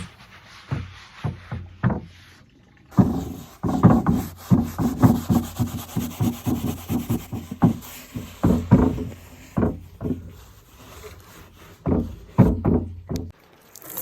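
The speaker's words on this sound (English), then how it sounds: "I'm scrubbing the whole piece with Brillo pads to remove any residue from the varnish that I sanded off" A wooden chest with small brass hinges, its varnish sanded off, is scrubbed with Brillo pads, giving repeated rubbing strokes in quick rhythmic bursts, close and fairly loud, broken by a few short pauses.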